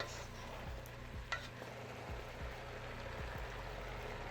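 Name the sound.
stir-frying vegetables for shrimp chopsuey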